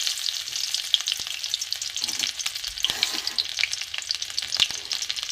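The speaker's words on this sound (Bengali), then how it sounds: "কিছুটা আমি সর্ষের তেলে আবার দিয়েছি, দিয়ে আমি রসুন কুচি দিয়ে দিলাম" Chopped garlic frying on low heat in mustard oil for a fish-roe bora curry, a close, dense crackling sizzle with sharp popping spits and a few stirring knocks, steady and unbroken without speech.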